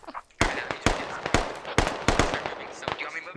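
Full-auto machine gun fire in a video game: a series of loud, sharp, close cracks in quick bursts, each ending with a short ringing decay.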